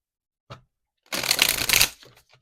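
Oracle cards being shuffled: a single soft tap, then a dense riffling flutter lasting about a second, close and fairly loud.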